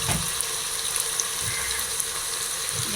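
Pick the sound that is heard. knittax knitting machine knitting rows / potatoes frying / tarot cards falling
potatoes frying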